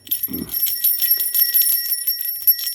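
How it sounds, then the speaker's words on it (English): Bells ring for a sound-cleansing bell bath, with bright, sustained metallic tones shimmering continuously and a brief low thump near the start. "Doing a little bell bath, little sound cleansing here."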